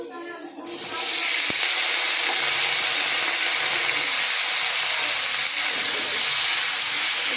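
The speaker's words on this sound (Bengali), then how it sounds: "এবারে তেলের মধ্যে দিয়ে দেবো গোটা জিরে এবার আমি সবজিগুলো এর মধ্যে দিয়ে দেবো" Whole cumin and vegetables hit hot oil in a pan just used for frying fish, bursting into a loud, steady sizzle that holds at close range for several seconds after a brief quieter start.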